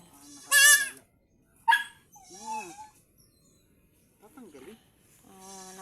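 A young goat bleats several times in short, wavering cries, close by, with quiet pauses between calls.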